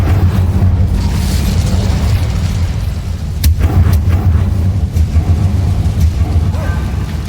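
Fire spell cast in the video game Hogwarts Legacy: a loud, dense burst of rumbling whooshing flame and booming game effects that stays steady and heavy throughout, with sharp crackling accents partway through.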